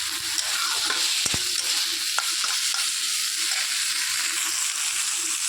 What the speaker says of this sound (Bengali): চিংড়িটাকে বেশ আমি জোরটা কমিয়ে কমিয়ে ভেজে নিচ্ছি